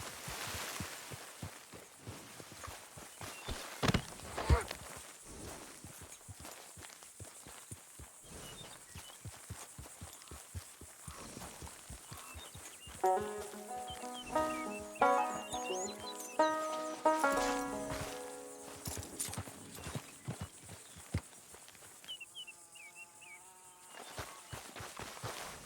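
A horse clip-clops steadily while being ridden in the Red Dead Redemption 2 video game. The soft, regular hoof beats run throughout at low level, with a tonal melodic passage rising briefly in the middle.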